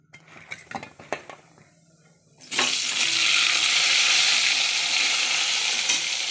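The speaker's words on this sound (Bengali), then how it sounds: "আর এখন পটল ভাজবো।" Pointed gourd (potol) hits hot oil in a pan with a loud burst of sizzling that settles into a steady, close, continuous frying hiss, preceded by a few clinks of utensils.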